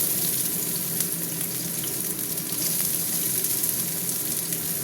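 Onions sizzle and fry in hot oil in a wok while cooking chicken with peas, a steady close crackling hiss with occasional stirring.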